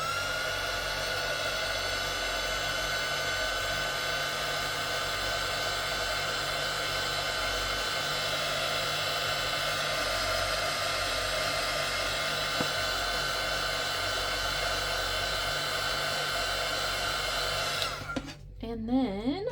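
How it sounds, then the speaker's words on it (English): A heat gun blows continuously to dry two coats of paint on a miniature museum craft piece, a loud, steady, close whooshing whir that runs unbroken for most of the clip before cutting off near the end. "I'm gonna grab my heat gun, put this over here so I don't blow it away"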